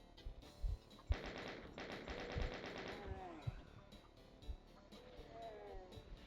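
Rapid bursts of enemy hitscanner gunfire rattle out in a Doom TNT level, two dense volleys followed by scattered shots and thuds, with game sounds trailing off afterward.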